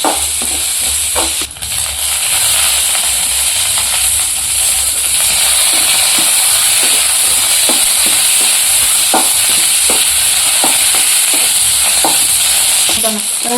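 Grated coconut frying and browning in a pan for chutney, a steady loud sizzle with intermittent scraping stirs of a spoon against the pan throughout.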